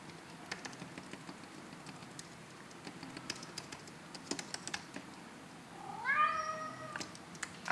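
A cat gives a drawn-out meow near the end, rising loud and close after a stretch of quiet computer keyboard typing, with no talk.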